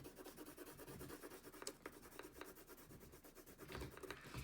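A woodless pencil scrapes steadily across paper while coloring in a flagpole on a paper American flag craft, a continuous close scratchy rubbing with brief stroke accents.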